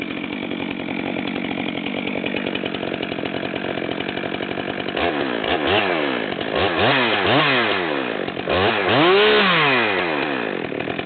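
Stock Stihl 462 and 461 chainsaws run outdoors in the heat, first idling with a steady buzz, then revving repeatedly in loud, swooping bursts close by.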